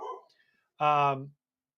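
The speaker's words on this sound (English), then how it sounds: "as she's barking at a squirrel right now" A dog, a prey-driven female, gives a single loud, harmonic bark close by, aimed at a squirrel in a park, following a moment of speech and a brief pause.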